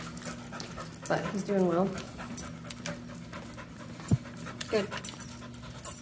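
A nervous dog being desensitized to walking on different flooring pants and whimpers softly nearby while a person speaks encouragingly.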